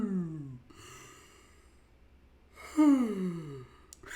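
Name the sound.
person yawning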